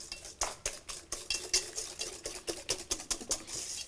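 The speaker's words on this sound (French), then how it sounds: "Je vais bien mélanger." A whisk or spoon beats eggs and sugar for genoise batter in a bowl, giving a quick regular rhythm of scraping, clicking strokes, close and moderately loud, with no voices.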